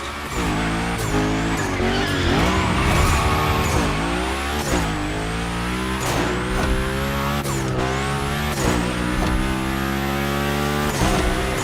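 A car sliding through a gymkhana course in the racing game The Crew Motorfest, its engine revving hard under repeated loud rising tire squeals as it drifts through turns.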